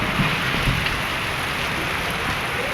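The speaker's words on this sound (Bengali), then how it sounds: "যত বৃষ্টি আসুক, যত বজ্রপাত হোক," Heavy rain pours down during a dark thunderstorm, a dense, steady hiss of drops striking surfaces, loud and close with no talking.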